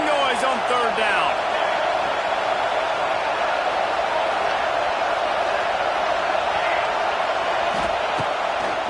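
Football stadium crowd roaring on third down, a dense, sustained wall of noise with whistles and cheers throughout, loud and continuous, with no break.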